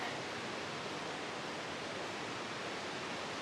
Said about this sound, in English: And the rapids we're right next to, Far Out says this is the only Class 3 rapids in Florida.